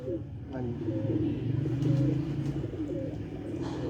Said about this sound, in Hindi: मदीने वाला बड़ा टैडी कबूतर